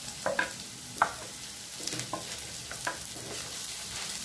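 Onion and garlic sauté in a pan with a soft, constant sizzle, punctuated by several distinct clacks and scrapes of a utensil stirring at close range.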